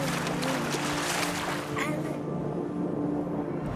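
Fishing sailboat under way on the sea off Zanzibar, its steady wash of water and wind filling the whole stretch, with no voices over it.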